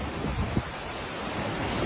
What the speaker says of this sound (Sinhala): මේ හොඳම වතුර පාරක් මේ යන්නේ මෙතනින් එහාට